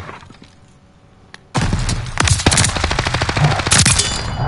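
Gunfire erupts in a shooter video game after a quiet moment: a sudden loud burst of rapid, closely spaced shots in a steady rhythm, near and without talk.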